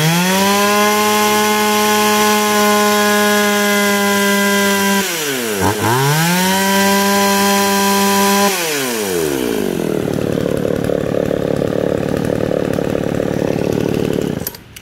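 A used Japanese Shindaiwa 407 chainsaw, its carburetor tuned for a slightly rich fuel mix, runs at a steady high whine. The engine dips briefly, recovers, then drops into a rough, loud, noisy running sound. No one speaks.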